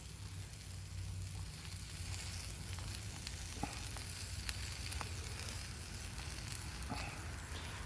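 A grilled cheese sandwich sizzles in a cast iron pan, a steady close hiss of frying with occasional small pops and light ticks of a spatula, fairly quiet and without voices.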